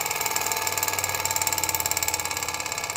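A small Stirling engine model keeps running on its own after its flame has gone out, giving a fast, even mechanical ticking pulse close by, steady throughout with no voices.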